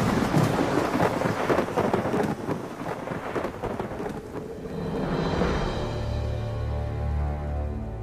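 Thunder rolls over steady heavy rain, a long rumbling crash that fades into a low, sustained grumble beneath the downpour.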